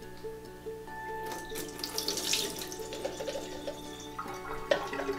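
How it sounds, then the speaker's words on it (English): A kitchen tap runs to rinse frozen fish food in a net, giving a steady, moderately quiet splashing stream with a few faint clinks. "Just gonna run the water"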